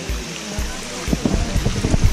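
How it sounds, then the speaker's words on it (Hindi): Meltwater flows down a snowy mountain trek trail on the way to Hemkund Sahib, a steady rushing trickle running beneath the scene, with people talking and footsteps moving nearby. "पानी कैसे बहकर आ रहा है"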